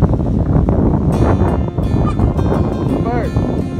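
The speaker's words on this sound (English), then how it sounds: "Yeah, it's a bird." Honking calls of a large fowl such as a goose, a few short rising cries heard outdoors during exercise amid steady background noise and other activity, with people talking nearby.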